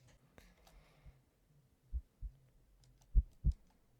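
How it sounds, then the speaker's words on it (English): Heartbeat sound effect in a horror video game, a few deep low thumps arriving in pairs at irregular spacing over a quiet dark background, with no talking. "You feel like you can hear your heartbeat."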